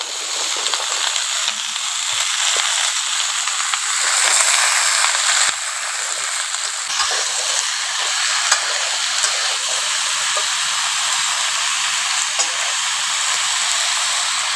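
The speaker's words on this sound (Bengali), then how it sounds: "এখন আলুটাকে একটু ভেজে নিয়েছি, এবার কুমড়োটা দিয়ে দিচ্ছি।" Pumpkin goes into a pan of potatoes already frying, and a loud, continuous sizzle carries on throughout, broken by a few faint clicks of stirring.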